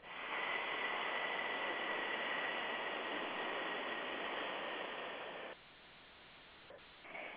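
A long, steady breathy hiss from a person imitating a whistling teapot while exhaling, sustained evenly for several seconds before cutting off abruptly, quiet and close.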